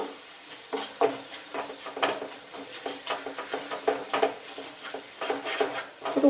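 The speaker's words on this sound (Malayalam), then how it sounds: "ഈ മുളക്, മഞ്ഞൾ, ഉലുവാപ്പൊടി ആഡ് ചെയ്ത് കൊടുക്കും. മിക്സ് ചെയ്യുക." Chili, turmeric and fenugreek powder are stirred into oil in a pan for a lemon-dates pickle, giving a soft sizzle under repeated scraping strokes of a spoon, close and fairly quiet.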